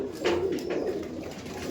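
Imported Giribaj pigeons coo in a steady, murmuring stream, several birds layered close by with no talk over them.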